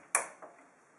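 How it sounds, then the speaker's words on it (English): Two sharp clicks from CPU cooler push pins locking into the motherboard holes during an Intel processor install: a loud snap followed by a softer one a moment later, close up and isolated. "Push firmly on top of each push pins. You will hear a click on each one to confirm it's locked into position."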